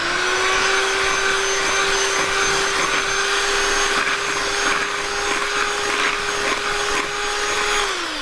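Electric mixer beating sour cream batter, a loud steady motor whine with a constant pitch that runs unbroken for about eight seconds with no voices.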